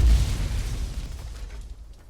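Explosion in the video game Call of Duty Black Ops Cold War on PS5: a loud, deep boom at the start that rumbles and fades over two seconds, with no talk.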